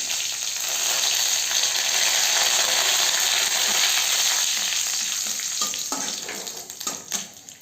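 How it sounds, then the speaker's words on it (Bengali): Curry leaves hit hot oil already tempered with nigella seeds and dried red chilli, giving a loud, steady, close sizzle that crackles through the whole stretch and softens slightly near the end, with no voices. "এরপর আমি দেবো কারি পাতা ফোড়ন।"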